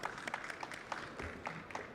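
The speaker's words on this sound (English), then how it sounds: "let's give a round of applause for Mr. Floyd Baker" Faint applause, a scattered patter of clapping from a distant crowd, quiet and steady throughout.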